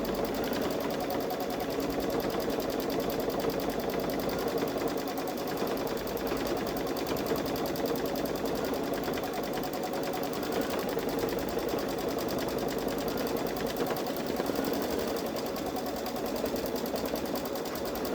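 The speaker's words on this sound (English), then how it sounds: "Now it's stitching on the no-show mesh again, and it seems to be doing fine." A Babylock Solaris 3 sewing machine quilts edge to edge on a sweatshirt over no-show mesh, its needle running in a fast, steady, unbroken mechanical chatter throughout.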